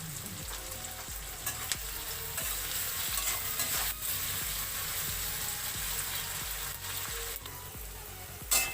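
Sliced onions, salted, fry in hot oil in a pan for Bengali chilli chicken, with a steady loud sizzle under regular scraping strokes of a spatula stirring roughly every half second, no talk.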